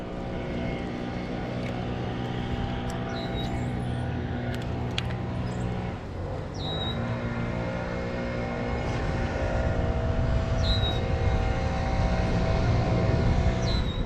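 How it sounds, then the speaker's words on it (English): Airplanes pass overhead above a neighborhood pond in Dallas, a continuous loud broadband drone with steady engine hum that swells slightly toward the end, heard outdoors with no talking. "The sounds of the airplanes and the yard workers."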